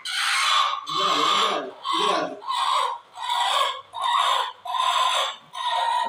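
A hen squawks and clucks loudly in about eight rapid, evenly spaced bursts, close to the listener.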